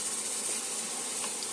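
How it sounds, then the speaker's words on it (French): A pressure cooker making tomato coulis gives a steady, loud hiss of escaping steam that fills the whole clip without a break. "la cocotte minute commence à tourner. Voilà, ça monte, la pression monte."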